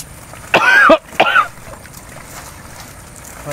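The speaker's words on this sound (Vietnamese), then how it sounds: "Trời ơi, ho ngay khúc này vậy." Two or three sharp, loud coughs close to the mic during an outdoor fish hunt in a field, followed by a quieter stretch of background ambience.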